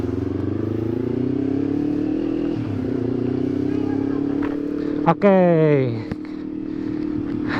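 A Yamaha MT25 motorcycle riding along, its engine a steady loud drone throughout with a brief revving surge partway through, under a short spoken word.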